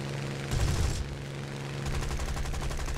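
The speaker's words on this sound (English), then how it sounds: "Finish him off with the machine guns." Spitfire Mk 2B machine guns in a War Thunder realistic air battle rattle in a steady, loud, continuous stream, swelling briefly in a heavier burst, with engine roar beneath.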